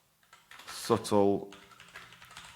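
Typing on computer keyboards, heard as soft clicking at moderate level mixed with a brief burst of speech partway through.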